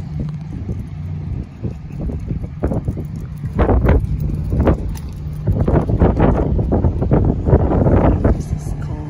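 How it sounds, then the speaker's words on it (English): Wind buffets the microphone in low, rumbling gusts that rise and fall, with a person speaking over it. "kind of windy here"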